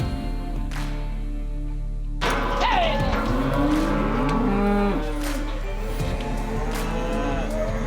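Cattle moo repeatedly at close range while they are being worked, with long, low overlapping calls over a constant engine-like rumble and some background voices.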